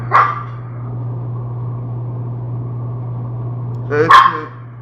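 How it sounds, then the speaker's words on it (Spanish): A small dog barks twice, once at the start and again about four seconds later. Each bark is close and sharp, with a steady low electrical hum in the quiet gap between them. "mi perrito está ladrando."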